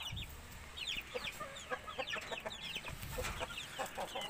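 Pet chickens, big, tall and feisty, cluck and chatter in a busy overlapping flock close by, with a steady stream of short calls over a low outdoor background.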